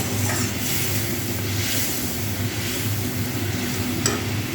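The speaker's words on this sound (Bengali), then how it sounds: "খুঁটি দিয়ে এরকম একটু করে নেড়ে দিচ্ছি" Spatula stirring pieces of fish through a spicy, tangy fish curry in a pan, a steady close bubbling sizzle with soft scraping and a couple of sharper clinks, no talking.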